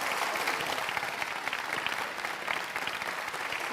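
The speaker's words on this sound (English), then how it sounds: "Let's give them a big round of applause." A crowd applauds steadily at a Gran Turismo 7 World Series event, with dense, even clapping throughout and no clear voices.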